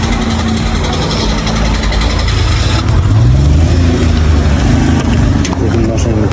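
A car engine runs loudly and close, idling steadily and then rising into revs partway through, during a gas valve test with no talk over it.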